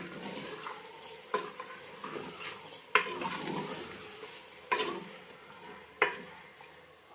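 Chicken being mixed in a cooking pot for a chicken and field bean gravy, a low wet shuffling with several clear clinks of a utensil against the pot, close and quiet, no talking.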